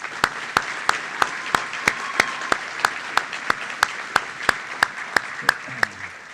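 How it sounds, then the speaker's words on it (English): An audience claps steadily at an academic closing ceremony, with individual hand claps standing out in an even rhythm and no talk over it. "So for y'all, a round of applause,"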